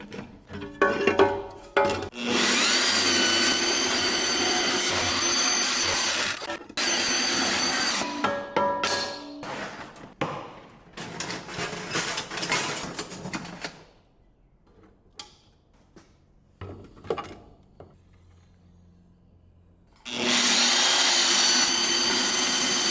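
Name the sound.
power tool cutting metal battery bracket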